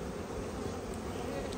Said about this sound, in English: Got some young bees.